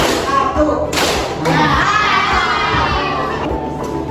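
Fifth-grade schoolchildren in a classroom clapping in a counted rhythm game, sharp hand claps in short patterned bursts mixed with thumps and lively children's voices around them.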